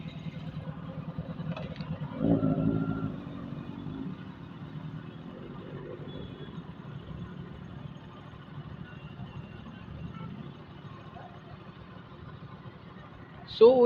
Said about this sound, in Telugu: ఇది ఇన్లైన్ 2 కాబట్టి సౌండ్ చాలా తక్కువ ఉంటుంది